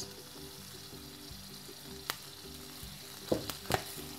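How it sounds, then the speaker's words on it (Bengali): Egg chilli frying in a pan with vinegar and soy sauce, giving a steady low sizzle while it is stirred, with a few sharp utensil clinks and scrapes near the end; fairly quiet and close, no talking. "ভিনেগারটা দিয়ে আবারও একটু নেড়ে দিতে হবে।"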